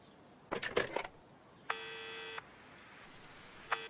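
A telephone being dialed in the Murder in Alps video game: a quick cluster of dial tones, then a sustained electronic beep and a brief final tone, fairly clear over a quiet background.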